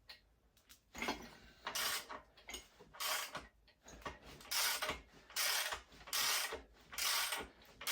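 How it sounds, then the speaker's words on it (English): OM647 diesel engine crankshaft in a Sprinter rebuild being turned over by hand: a series of close mechanical ratcheting, grinding sweeps, about six in rhythmic succession with short pauses between. "is a crankshaft installed. Let's see if it spins."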